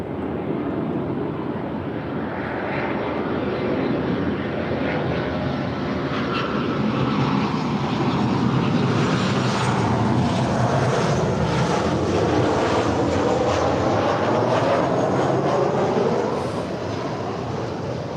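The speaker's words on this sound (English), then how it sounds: "that is Southwest 102 from Las Vegas, 737-700" A Southwest Boeing 737-700 airliner arriving from Las Vegas passes near LAX with a loud, sustained jet engine roar that swells and slowly fades.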